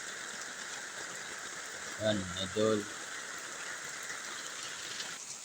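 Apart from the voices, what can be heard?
heavy rain pouring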